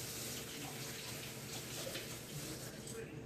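Tap water runs in a steady, even hiss over a honey jar being rinsed at a kitchen sink, continuous and fairly close throughout.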